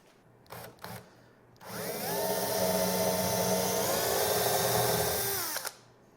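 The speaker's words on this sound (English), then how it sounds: "Now we're going to go ahead and drill that hole." A power drill bores a hole in wood after a few brief taps and handling noises, its motor running steadily loud and close for about four seconds, then spinning down.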